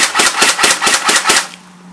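Airsoft P90 fired in semi-automatic mode: about eight loud, evenly spaced sharp cracks in quick succession, close by, then silence.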